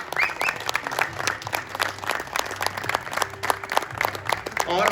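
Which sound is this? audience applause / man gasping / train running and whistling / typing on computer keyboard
audience applause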